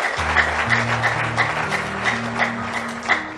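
A church congregation applauds in steady rhythmic clapping, in time with an organ or keyboard holding low sustained chords beneath it, moderately loud throughout.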